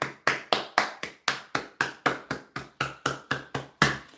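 Hand clapping in a slow, even rhythm, about three claps a second, crisp and close, each clap sharp and separate with nothing else heard.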